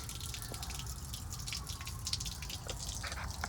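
Water flowing and spattering out of the intake of a portable live well plumbed into a fishing boat's hard system, a steady wash with irregular drips and splashes, close and alone without talk.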